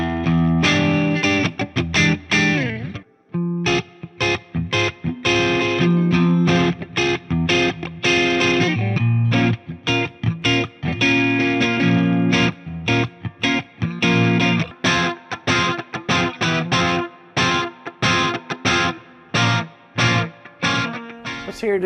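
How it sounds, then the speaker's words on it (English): Epiphone ES 339 Pro with P90 pickups, played on the neck pickup through a Marshall amp set to crunch: loud, continuous overdriven chords and picked notes with choppy strummed rhythm and brief gaps, no voice. "Now you hear on the neck pickup here in the Marshall with the crunch"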